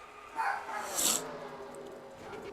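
A dog barks a couple of times in the background, faint and distant, over steady room noise during an online stock-car racing session.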